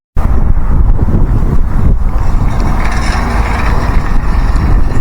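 Strong wind blows outdoors on a cold day, buffeting the microphone with a loud, steady, close roar that runs unbroken for the full length.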